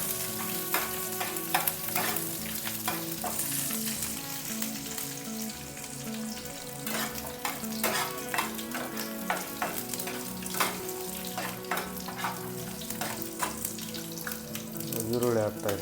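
Green chillies frying in a pan for uppittu, a dense continuous sizzle broken by frequent scraping stirs and clinks of the spoon, close and steady throughout with no one talking.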